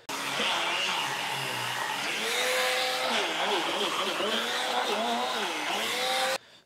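An Aerus Lux Guardian Platinum vacuum runs continuously on stairs, its motor whine rising and dipping in pitch as it bogs down under load, steady and fairly loud throughout.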